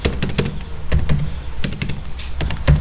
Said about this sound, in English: I am just typing some Hindi words like